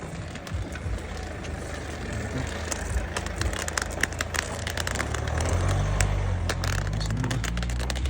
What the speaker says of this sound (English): Another car reversing out.